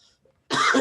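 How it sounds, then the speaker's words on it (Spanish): A single loud, harsh cough bursts out near the microphone after a faint, quiet stretch, spoken with no words, during a Spanish-language church talk. "perdón, me dio la tos."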